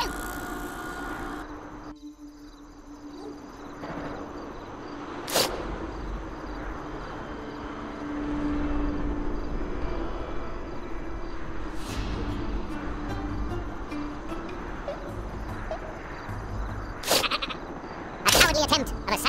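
Bleating of the Super Sheep weapon from Worms W.M.D. as it flies, heard in a few sharp bursts over steady in-game background sound and noise.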